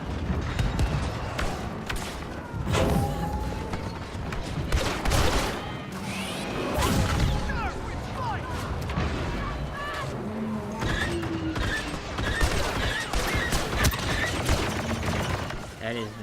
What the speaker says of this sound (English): That is not a long-range gun at all. This is a CQC gun.